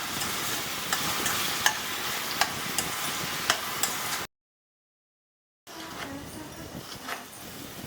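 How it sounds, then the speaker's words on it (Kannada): Onions fry for a gobi masala gravy, giving a steady broadband sizzle with occasional stirring clicks; the sizzle breaks off for about a second, then returns a little quieter. No one speaks. "ಗ್ರೇವಿಗಳೆಲ್ಲ ಮಾಡೋವಾಗ ಈರುಳ್ಳಿನೇ ಮೇಯ್ನ್ ಚೆನ್ನಾಗಿ ಫ್ರೈ ಆಗಬೇಕು"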